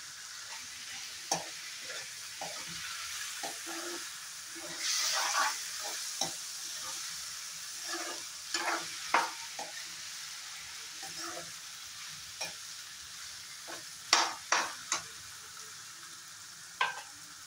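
Asafoetida fries in ghee for a gourd curry, a soft, low sizzle broken by scattered spoon clinks and scraping taps, fairly quiet throughout.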